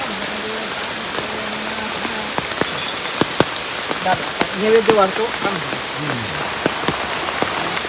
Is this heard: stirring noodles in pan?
no